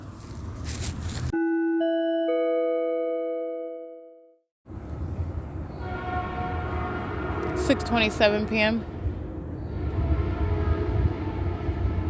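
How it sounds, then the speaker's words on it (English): A Metrolink commuter train runs eastbound toward San Bernardino, heard as a steady rumble with loud multi-tone horn blasts and a brief ringing crossing-bell passage, while someone talks over the noise. "That's a Metrolink train"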